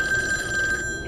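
An old Taiwanese public telephone rings inside the game Devotion, a steady electronic bell tone that is loud and close, cutting off near the end of the short burst.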